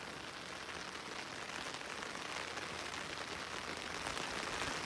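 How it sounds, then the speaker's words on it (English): Steady rain falls during an Arizona downpour, a soft, even hiss of drops spreading evenly and continuously with no voices. "it's kind of cool to walk in the rain"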